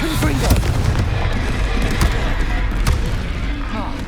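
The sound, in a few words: Confringo blasting spell explosions, Hogwarts Legacy video game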